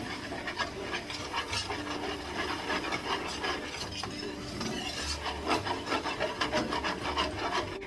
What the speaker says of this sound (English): you're going to add your flour and whisk that up really well, picking up all the good bits at the bottom of your pan